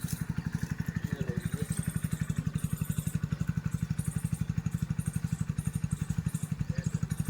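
A motorcycle engine idles close by with a steady, rapid thumping rhythm that continues without change, no voices.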